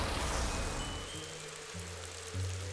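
Rain spell cast in the Ghost Master video game: a steady, close hiss of falling rain, joined midway by low, droning tones.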